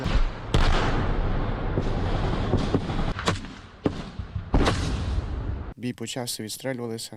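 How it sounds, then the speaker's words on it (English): Battlefield gunfire near Kremenna in Ukraine, with firearms, mortars and tank fire: loud repeated blasts and cracks in a dense, continuous barrage, followed at the end by someone talking. "Ukrainian military personnel repelling an enemy attack using firearms, mortars, and a tank"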